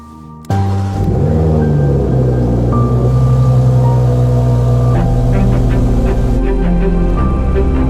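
A Mazda CX-90 SUV starts off and drives, its engine note jumping in suddenly and then holding a loud, steady, droning hum with tonal rises as it accelerates.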